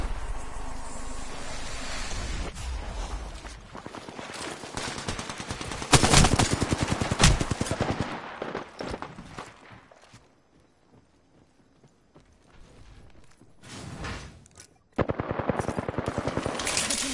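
Gunfire in a PS4 video game: dense rattling bursts of shots come in waves with a lull in the middle, then resume loudly near the end.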